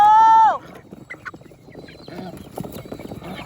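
Chickens cluck in short, scattered bursts on a farm, close by, after a brief tonal beep at the start, with people talking faintly in the background.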